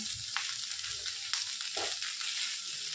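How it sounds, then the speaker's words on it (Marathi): Okra for masala bhendi is stirred and dry-roasted in an open pan, producing a continuous close frying hiss with scraping stir sounds throughout. "असंच हलवत भाजा, चांगलं मस्त होते भेंडी"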